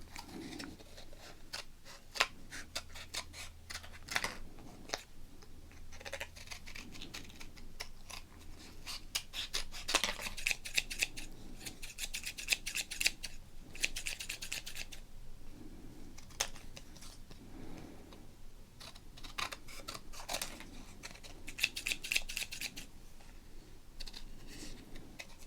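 Scissors cut through football trading cards in a quiet ASMR-style session, giving soft, close snips and crinkly clicks that repeat irregularly for about 25 seconds, with no voices.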